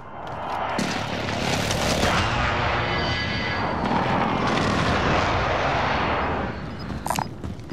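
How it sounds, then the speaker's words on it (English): Precision airstrike in Call of Duty Warzone: a jet roars overhead amid rumbling explosions and heavy booming impacts, loud and sustained for several seconds before easing off. "Friendly precision airstrike inbound."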